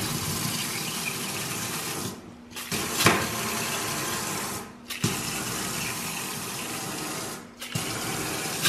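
Water rushes through a newly connected water line as air is purged, a steady close hiss broken by a few brief sputtering dips and knocks.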